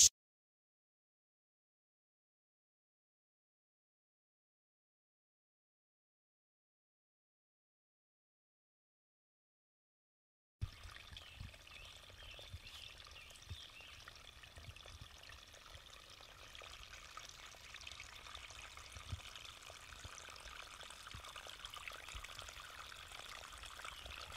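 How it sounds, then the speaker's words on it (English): Spring water trickles and pours steadily into a small spring box outdoors, a soft continuous flow that begins after about ten seconds of silence and stays faint and even to the end. "So you can see the little spring box is starting to fill."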